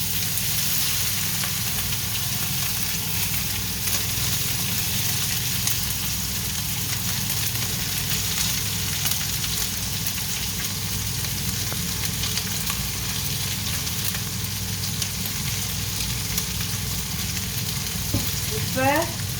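Dried fish (karuvadu) frying with curry leaves in a pan gives a loud, steady close sizzle and hiss that runs unbroken, with occasional faint stirring scrapes and a few sharper pops near the end, no talking.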